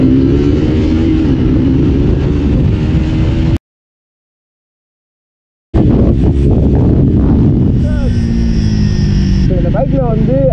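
A 400cc sports motorcycle accelerating hard from standstill toward 100, loud engine roar with wind noise, broken by a brief silent gap, then revving through gears again with faint talk.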